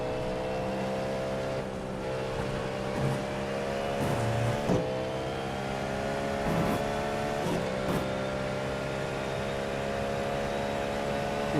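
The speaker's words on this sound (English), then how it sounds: "But at least our car sounds cooler." A Cadillac race car at Le Mans, from a racing game, holds a steady, loud engine drone with layered harmonic tones and small rises and dips in pitch, with no voices over it.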